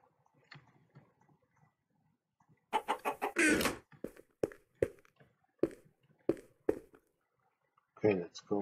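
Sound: chickens clucking in Minecraft video game

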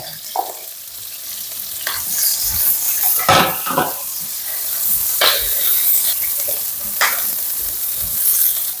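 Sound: garlic and onion frying in pan

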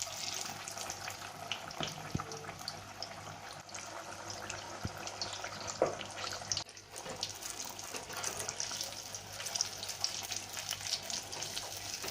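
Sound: chili pakoras frying in oil

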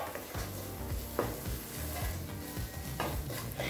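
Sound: sautéing chana kurma masala in a pan

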